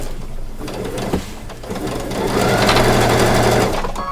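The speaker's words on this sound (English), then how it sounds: "forward stitching" A sewing machine runs forward stitching on fabric for a leather leaf pillow, whirring steadily and loudly up close, slow at first and then a faster continuous hum to the end.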